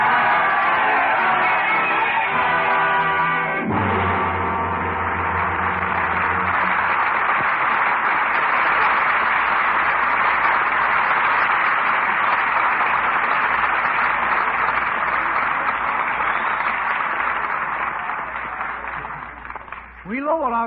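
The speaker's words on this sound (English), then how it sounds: "the roaring crowds of Paris" A roaring crowd of Paris in a radio drama, dense and loud, swelling steadily for a long stretch after a short musical opening, then fading near the end.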